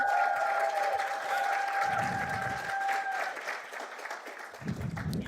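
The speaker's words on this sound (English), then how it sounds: "Do we want to give a round of applause to African Leadership University?" Applause from a conference audience at the closing ceremony of a health collaborative convening, honouring the host university: steady, dense clapping fills the room throughout, with a sustained tone running under it for the first few seconds.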